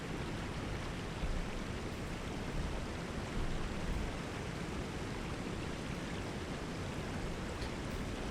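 A waterfall in The Lord of the Rings Online pours as a steady, broadband rush of falling water, constant and fairly loud across the whole stretch, with no voices present.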